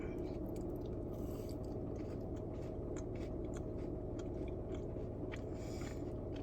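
Close, quiet crunching and chewing of a soft yellow sugar cookie from a bakery, steady bites and mastication with no talking.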